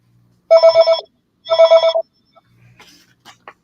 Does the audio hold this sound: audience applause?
no